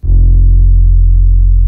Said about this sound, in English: a bass one-shot that I made in my left field low-end pack